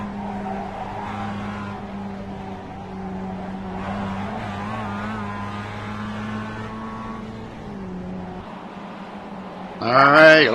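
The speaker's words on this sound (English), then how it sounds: "Let's ride along with one of them here and see what it's like to race one of these MX-5s out here on Lime Rock." An onboard Mazda MX-5 race car at Lime Rock drones steadily at high revs with a strong engine hum, shifting pitch around four seconds, then easing off before a sudden burst of loud wind or tire noise at the end.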